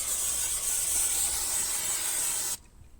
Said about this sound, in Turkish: Şimdi bu noktaları da güzelce fren balata spreyi ile temizliyorum